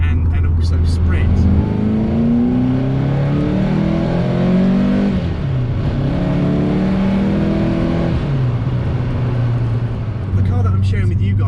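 A TVR Cerbera's 4.5 litre V8 rumbles loud and close, its deep engine note rising and falling through several revs across the stretch, with a voice talking over it.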